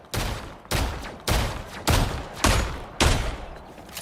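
Six heavy shotgun blasts boom at an even pace, roughly every half second, each with a decaying tail, from a pump shotgun in the Marvel Rivals video game; close, loud and with no voices.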